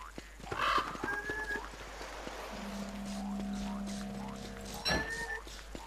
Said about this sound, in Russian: Так, вот птицы.